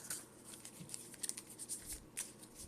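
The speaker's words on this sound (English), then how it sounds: "Now we need to shuffle, so I'm going to just cut my deck a few times like so." A deck of Pokemon trading cards is cut and shuffled by hand, with quiet, irregular papery flicks and taps close by, soft overall.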